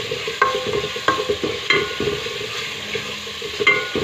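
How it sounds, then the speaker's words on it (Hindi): Chana dal roasts in a pan over a medium flame, with a soft continuous sizzle broken by repeated clinks and scrapes of a spoon stirring at a steady, unhurried pace. "मीडियम फ्लेम के ऊपर इसको मैं भूनूंगी।"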